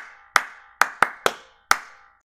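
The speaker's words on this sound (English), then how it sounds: "Clap for her." Five sharp, separate claps from a classroom applauding a student, each a crisp close hit with a short decay, irregularly spaced over about two seconds with no talking.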